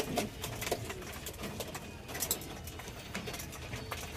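Racing pigeons in a loft cooing softly amid shuffling and pecking while they feed, with steady low rustle throughout and a few brighter clicks.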